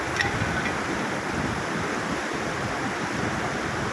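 Floodwater rushes in a loud, continuous roar, strong enough to sweep away stones thrown into it, with no voices heard.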